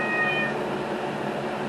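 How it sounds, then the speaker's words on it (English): A pet cat meows in a home kitchen during cooking, with a couple of clear high mews near the start over steady cooking background noise, then continuing ambient hum. "sorry about the cat meowing"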